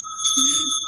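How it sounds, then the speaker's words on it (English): Altar bells used for exorcism ring out in a sustained, shimmering bell tone with steady overtones that hold through the short clip, close and fairly loud, with a low murmur rising underneath midway. "these are the bells that I use for the altar for an exorcism"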